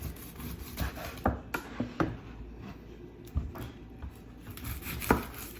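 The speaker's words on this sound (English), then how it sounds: "Then I'm gonna cut an onion, a red onion." A knife chopping a red onion on a board in a home kitchen, with a handful of irregular, close, dull thuds over low room noise.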